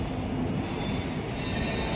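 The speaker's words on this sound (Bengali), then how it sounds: "লোকাল ট্রেন যাচ্ছে" A local train passes near a metro station with loud, continuous wheel squeal and rumbling rail noise, close by and filling the whole moment without any voices.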